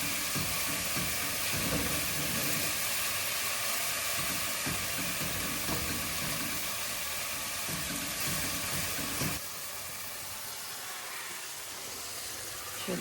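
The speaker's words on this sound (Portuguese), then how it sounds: "Deixa eu deixar o vapor sair." Steam hisses from a cooking pot of caramelised meal-prep food as it is stirred, a continuous broad sizzle that holds steady, then drops slightly in level near the end.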